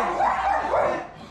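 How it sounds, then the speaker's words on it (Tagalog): Several pet dogs, small Chihuahua types among them, bark and yip continuously at close range, with high, busy yelping layered together and no talk over it. "marami po silang alaga mga aso"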